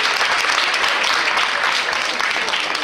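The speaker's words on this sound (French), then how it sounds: "On l'applaudit," Audience applause for a solo dancer at a regional dance competition in Brittany, a steady dense wash of clapping that holds loud and even for the whole stretch.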